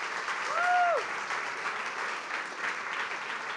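Applause from an audience at a school fashion-marketing project event, a fairly quiet, steady clapping heard at a distance throughout, with a short tone near the start.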